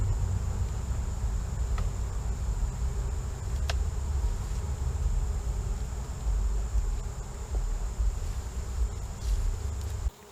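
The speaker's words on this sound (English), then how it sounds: "Got a few bees right here that look like they're getting some nectar." A faint, steady buzz of honey bees on a hive frame hums over low background rumble, continuous for the whole stretch.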